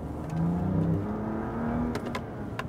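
A BMW M2 Competition engine drones and rises as the car accelerates around the Dreux circuit, a steady close motor note heard from inside with a few faint clicks near the end.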